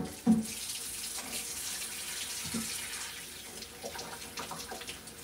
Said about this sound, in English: And the sound you're hearing is me rinsing off the sausage casing in the sink.